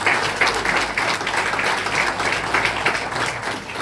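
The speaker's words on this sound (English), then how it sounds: "Could you put a big round of applause for that?" An audience at a mathematics summit launch at Mico University College gives a round of applause, a dense continuous patter of many hands at steady volume with no talking.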